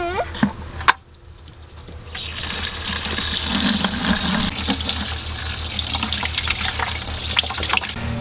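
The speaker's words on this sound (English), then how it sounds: "Are you trying to get water in the bucket?" Water runs steadily from a tap into a bucket outdoors on an urban homestead, a continuous rushing splash that fills most of the clip after a few brief knocks at the start.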